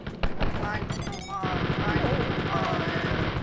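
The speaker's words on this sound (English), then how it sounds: "break out the chain gun" Rapid chain gun fire from the Spear of Destiny first-person shooter, a dense, loud, continuous stream of shots with a brief gap partway through before the burst resumes.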